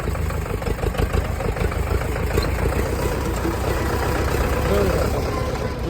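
A Mahindra tractor engine idles nearby in a field, hitched to a single reversible plough, with a steady low rumble and voices talking faintly over it.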